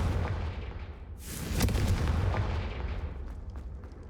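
A Confringo fire spell blasting in the video game Hogwarts Legacy, a deep rumbling burst that swells midway and rolls on as a dense, loud roar with crackling over it.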